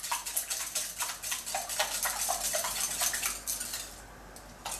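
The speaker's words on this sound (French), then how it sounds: "Et là, je bats encore mes 4 autres œufs" Four eggs being beaten in a bowl for a crème renversée, rapid rhythmic whisk strokes clattering against the bowl, close and steady for several seconds before easing off.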